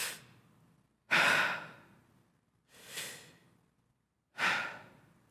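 A voice imitates sudden gasps for air: four sharp, breathy intakes close to the mic, each fading out, spaced about a second or more apart with silence between.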